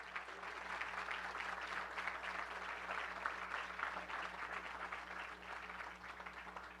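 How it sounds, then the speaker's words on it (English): Steady applause from an audience at a hospital topping-off ceremony for Norton West Hospital in Louisville, Kentucky, a continuous wash of clapping with a low hum underneath, moderately distant and fading slightly at the close. "Yes, I'm going to say it, and you're going to applaud."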